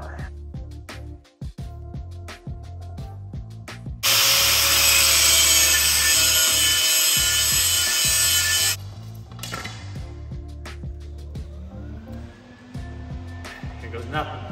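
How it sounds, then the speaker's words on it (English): An electric welder, powered by an Oukitel P2001 portable power station, runs a bead on flat bar, giving a loud, steady crackling hiss for several seconds, with talk and handling noises before and after. "We're going to see if we can weld."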